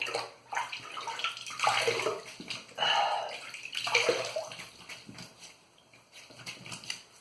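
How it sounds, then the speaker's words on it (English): Water splashes close by as a face is wetted before a shave, in irregular bursts of scooping and splashing with quieter drips between. "Now let's wet the face and get started."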